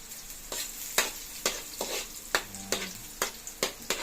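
Garlic sautéing in a pan for dinuguan, a soft continuous sizzle punctuated by about nine regular scraping strokes of a spatula, close and alone without speech.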